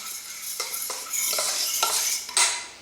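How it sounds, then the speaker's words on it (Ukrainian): A whisk or spoon scrapes and clinks against a bowl while stirring a vanilla custard cream mixture, close and brisk with irregular strokes and no talking. "Та все змішуємо."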